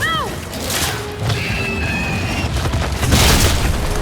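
A frag grenade blows up in the Gears 5 video game, a loud booming crash with rumbling debris amid dense battle noise, while voices shout over it.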